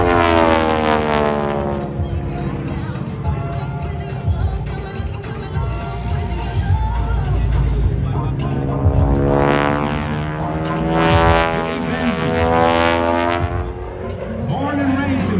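A primary trainer airplane flying an aerobatic display, its engine drone rising and falling with pitch sweeps as it passes, loud and continuous, with a voice talking over it.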